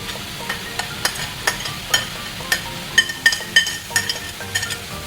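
Chopped onion and green chillies fry in a pan under a soft continuous sizzle, broken by sharp, regular spatula knocks and scrapes against the metal as the mix is stirred; no one speaks.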